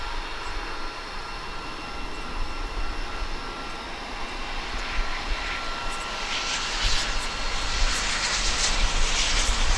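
Aircraft arriving at DFW airport, a flight in from Honolulu at daybreak, its broad engine roar building steadily louder over about ten seconds at a distance with no voices.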